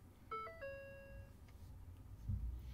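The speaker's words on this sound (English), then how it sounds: "turn it to run, but not start. Let it ding till the chime stops" A Ford F150 truck's ignition key-on chime sounds a short two-tone ding-dong close by as the key is turned to run, followed by a faint click and low cab rumble.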